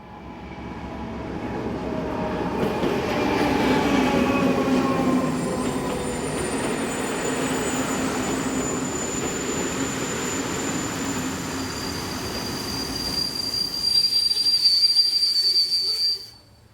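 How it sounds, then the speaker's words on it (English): A locomotive-hauled passenger train arrives at a station on a Slovak line from Horná Dobyně to Vrútky, with a steady loud rumble of wheels and faint squealing and whistle-like tones rising toward the end before it stops. "Sister loco number 757016 arrives powering the 1746 from Horná Dobyně to Vrútky."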